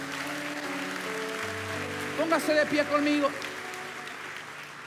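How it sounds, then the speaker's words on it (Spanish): A congregation at a Spanish-language church service claps throughout, a continuous low wash of applause under the pastor's voice as he speaks. "Denle un aplauso al Señor."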